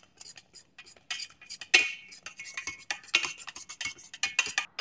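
A spoon or spurtle beats choux pastry dough in a pan until it forms a ball, giving a run of uneven scraping, stirring and clinking strokes, close and moderately loud with no talk.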